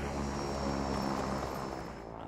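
A helicopter in the Super People battle royale game drones steadily close by, a continuous rotor and engine hum with a faint high whine, holding loud for about two seconds before easing slightly.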